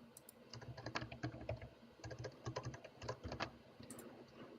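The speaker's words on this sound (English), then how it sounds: "You sounded like a keyboard there when you were talking." Rapid computer keyboard typing picked up over an open microphone during a football panel discussion, with dense irregular clicks and clusters of keystrokes running steadily throughout, fairly close and alone without talk.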